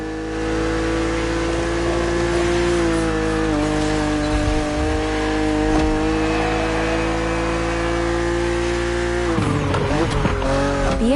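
A BMW Z roadster in The Crew Motorfest roars along at steady high revs with a sustained engine drone, then squeals its tires and shifts pitch near the end, loud and close, under faint talk.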